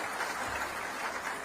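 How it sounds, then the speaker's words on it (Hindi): An audience at a formal ceremony in India, where the Vice President releases the Constitution in Sindhi, breaks into a short burst of steady applause, a dense wash of clapping with no voices. "उनके लिए भी जोरदार ताली बजा दीजिए आप"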